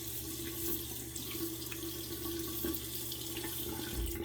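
Tap water runs steadily into a sink while a face is wetted before shaving, a continuous close gushing splash with no pauses.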